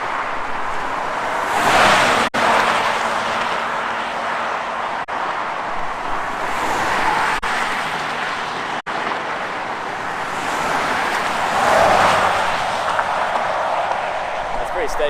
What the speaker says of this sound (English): That's pretty steady traffic here.